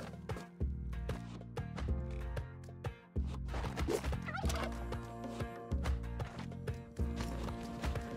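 Turkeys in the video game Spelunky 2 gobbling in busy bursts over game music and clattering effects, dense and close, with no speech.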